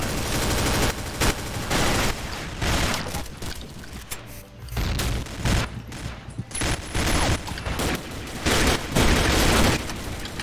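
Gunfire in the online shooter Combat Arms, with rapid bursts of automatic weapon fire and heavy booms crackling loudly and nearly nonstop, pausing only briefly midway, with no talking.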